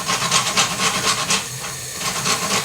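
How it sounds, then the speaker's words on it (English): Onions sizzle and crackle in a hot pan while being sautéed for saffron risotto Milanese, a steady close hiss with faint irregular pops and no talking. "So you can hear now that the onions are starting to kind of crackle a little bit."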